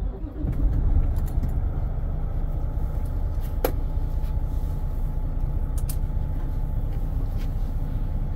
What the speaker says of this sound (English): And then start my engine.